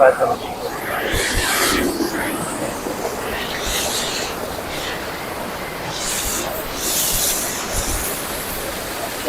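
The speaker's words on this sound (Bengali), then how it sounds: "পাহাড় ঝর্ণার শব্দ শোনা যাচ্ছে" A mountain waterfall at Shoilong in Bandarban roars as a steady broadband rush with a few bursts, heard from nearby under outdoor ambience.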